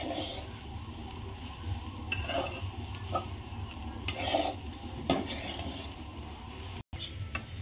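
Okra pan-roasting in a kadhai: a soft, steady dry sizzle runs throughout, broken by repeated spatula scrapes and stirring clatters against the metal pan, heard up close with no talking.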